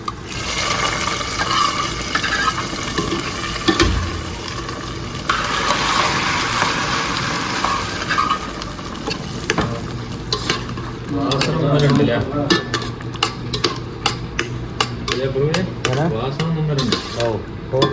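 Hot tempering poured into a pumpkin dish and stirred, with loud sizzling and splashing up front, then scraping and clattering stirring strokes as the hiss settles, close and continuous.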